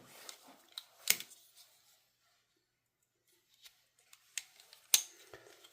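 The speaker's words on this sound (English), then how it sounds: "So let me open up the scissors here for us." Multitool scissors, including a Roxon Titan, Leatherman Surge, Nextool Flagship Max and Nextorch Pioneer, are flicked open with sharp metallic clicks and snaps, a few distinct close clacks separated by quiet pauses.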